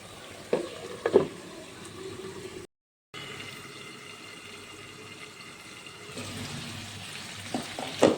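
Taro stolon curry with fish cooking in a pan as water released from the stolons boils off, a soft steady sizzle and bubbling with occasional louder clatter of stirring, briefly cut to silence partway.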